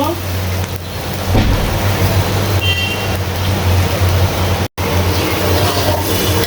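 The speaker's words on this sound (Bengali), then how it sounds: "বাইরে অনেক বৃষ্টি পড়তে আছে, তো বৃষ্টির শব্দ একদম।" A steady wash of heavy rain hisses outside, constant throughout, with a low hum underneath and a person talking over it.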